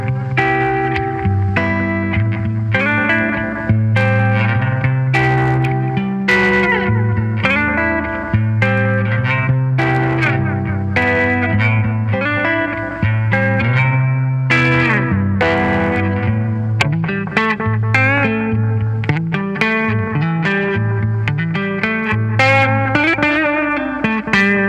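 Electric guitar from an Illuminati Guitars Nebula DX run through a GFI System Duophony signal blender pedal into a Kemper, playing continuous chords and melodic lines with distortion, chorus and echo effects, loud and unbroken, with no talk.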